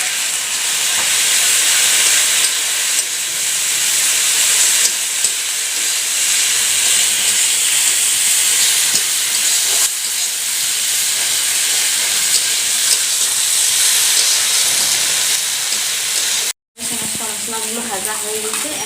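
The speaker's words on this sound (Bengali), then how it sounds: "মশলাগুলো ভাজা হয়ে গেছে" Ground spice paste sizzles in a pan for a Bengali-style egg curry, a steady loud hiss and crackle that runs almost unbroken, with a brief drop-out near the end and scraping of stirring after it.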